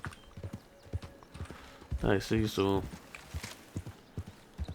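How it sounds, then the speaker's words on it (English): Steady clip-clop of horse hooves in Red Dead, the game, with sharp regular hoof strikes throughout and a brief burst of a person talking in the middle. "sure, that's a horse."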